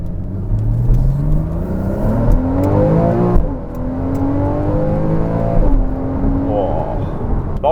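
A Porsche Cayman S 981 running a 997 911 engine accelerates hard in sport mode, rising through the revs with a loud close rasp, dropping at a gearshift and climbing again.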